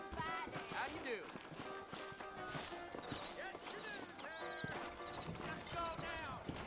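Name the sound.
horse hooves clip-clop, from a video game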